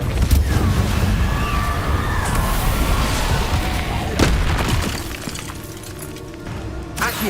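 A Repulso spell blast in Hogwarts Legacy bursts with a shattering crash and dense rumbling debris, then a second sharp impact fades into lighter clatter and settling noise.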